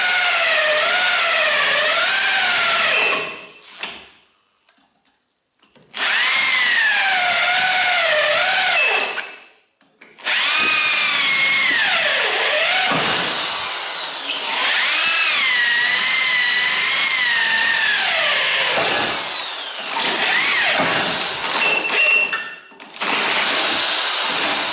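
A drill fitted with a milling cutter works a Volkswagen Tiguan chassis rail in loud, high whining bursts with wavering pitch, broken by a few short pauses.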